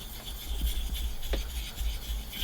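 Soft, steady rasping of a straight razor stroked across a fast-cutting Japanese natural whetstone, a continuous close scraping with faint rhythmic passes and no talking.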